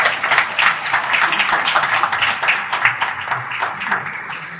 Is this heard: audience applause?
yes